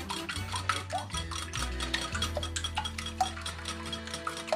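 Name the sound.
whisking eggs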